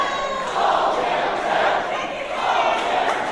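Wrestling crowd at a Reality of Wrestling match cheering and yelling chants for Will Allday, a loud, sustained roar with swelling pulses of voices.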